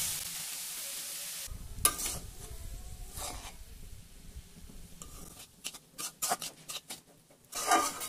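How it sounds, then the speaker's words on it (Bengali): Bitter gourd and potato pieces fry in a pan over medium heat. A soft steady sizzle runs underneath while a utensil scrapes and stirs in several short bursts, growing busier toward the end, with no talking. "এখন এগুলো নেড়ে দিচ্ছি। চুলার আঁচ মিডিয়াম করে দিয়েছি, আর পরপর একটু করে নেড়ে দিব।"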